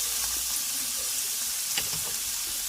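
Mushrooms and chopped onion fry in about one or two spoonfuls of oil in a pan, giving a steady close hiss and sizzle with a few faint stirring clicks and no voices.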